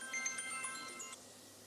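Phone ringtone playing a short bright electronic melody, a few tonal notes for about a second before cutting off, moderately loud over faint workshop background, no talking.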